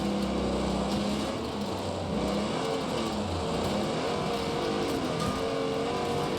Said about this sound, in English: Just listen to that engine note. It's so good.